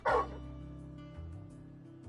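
A dog in Final Fantasy XVI gives one short, loud bark at the start, then the scene settles into a low steady background hum.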